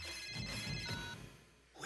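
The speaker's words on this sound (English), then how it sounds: "Let's call her. It's ringing." A telephone rings with a steady electronic tone for most of the clip, fairly loud and close, then fades out near the end. No one speaks over it.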